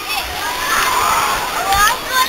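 Water splashes and sloshes steadily as someone climbs into an outdoor pool, with voices in the background throughout.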